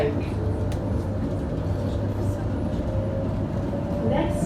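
London Overground train bound for Gospel Oak running steadily, a continuous low rumble and hum filling the carriage with faint higher whine, with a voice speaking over it.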